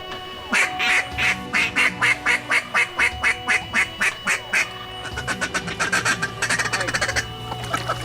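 Ducks quack on partly iced-over water, a long run of loud, evenly paced calls followed by a faster, overlapping burst of quacking from several birds nearby.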